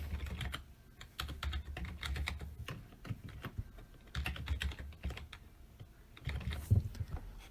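A username is typed on a computer keyboard in a quick, uneven run of close, crisp key clicks with short pauses.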